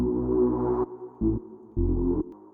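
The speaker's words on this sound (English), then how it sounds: "I'll just go to the bass preset and I will use this Diablo TE." Diablo TE bass preset from the GMS synth in FL Studio, for an Amapiano beat: a deep, sustained synth bass playing a long note followed by two shorter held notes with brief gaps between them, alone and moderately quiet.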